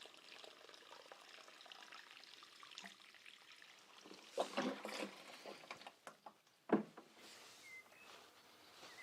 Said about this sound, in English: give it a proper soaking, at least 7 to 10 seconds of water